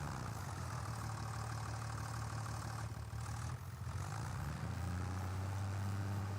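A tractor engine in a farming video game drones steadily and loudly with a low, labouring hum that barely changes over several seconds, with no voices.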